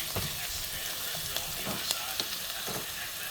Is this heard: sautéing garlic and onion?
yes